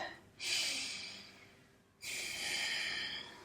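Two slow, breathy airflows drift in from close by during a standing yoga pose, each a soft rushing breath lasting over a second with a brief quiet gap between them, no talking.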